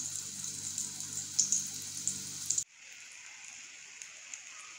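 Black chickpea vadas shallow fry in a little oil with a crackling, popping sizzle for a couple of seconds before it drops away to a faint hiss.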